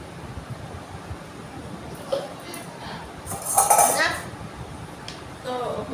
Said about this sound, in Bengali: এই বাটিটা পড়ে গেছে।